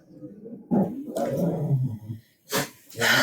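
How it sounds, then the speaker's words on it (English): Pet dogs whimper and whine indoors in short, uneven bursts close by, with a couple of louder yelps near the end. "Let me pause it and get the dogs out of here."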